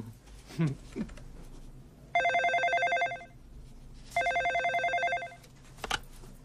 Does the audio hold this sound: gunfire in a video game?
no